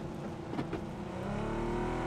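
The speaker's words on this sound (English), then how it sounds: "Oh, vehicle incoming. Approaching." A vehicle engine approaches in the video game PUBG, a steady motor drone that swells and grows louder over two seconds, with a couple of brief bursts midway.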